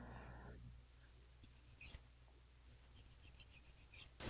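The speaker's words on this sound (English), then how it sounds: "My first step in filing, file straight out from the nail groove on the left." A sculptured pink-and-white French nail is filed straight out from the left nail groove: soft, close scratchy strokes, sparse at first and then quicker and more rhythmic, over a low steady hum.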